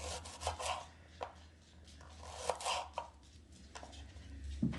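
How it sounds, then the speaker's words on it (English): A knife slices potatoes on a board in a home kitchen, giving close, crisp cuts in an irregular rhythm, some firm chops and some softer scraping strokes, with no talking. "I'm just going to slice the potatoes about this size."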